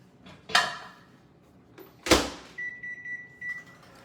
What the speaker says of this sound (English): And we're gonna do 5 minutes in the microwave.